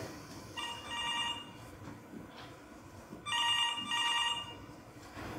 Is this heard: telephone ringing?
yes